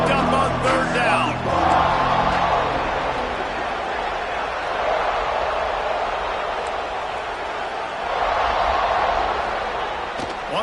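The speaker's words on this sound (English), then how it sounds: "Crowd getting this defense whipped up on 3rd down." A packed stadium crowd roars steadily on third down during an LSU vs Ole Miss football game, a dense, loud wall of cheering and yelling that swells again near the end, with a commentator's voice briefly audible at the start.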